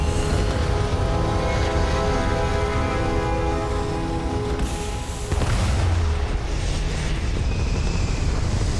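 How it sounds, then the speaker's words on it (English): Spaceship thrusters firing in Starfield, a loud sustained roaring rumble with a steady harmonic drone that shifts into a broader rushing blast midway, continuous throughout. "All thrusters firing"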